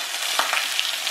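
Food hits a hot pot and sizzles as a loud, steady hiss of frying, with a few sharp pops and crackles over a couple of seconds in a home kitchen.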